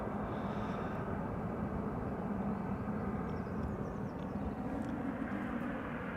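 An Airbus A320neo at Amsterdam Schiphol Airport gives a steady, broad engine roar, a sustained even rumble from start to finish.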